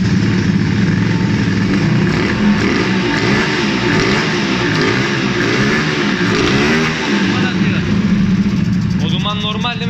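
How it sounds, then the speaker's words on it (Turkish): A Hyosung GT 250 motorcycle engine idling loudly and steadily close by during idle adjustment, with voices talking over it. "Motor yanıyor arkadaşlar."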